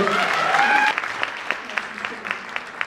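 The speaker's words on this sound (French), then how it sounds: "Donc je pense qu'on peut l'applaudir très fort, Isabelle." At a regional Diamantissime beauty election evening in Nord-Pas-de-Calais, a voice over the sound system finishes talking as sparse, scattered claps from the audience follow, irregular and fairly close.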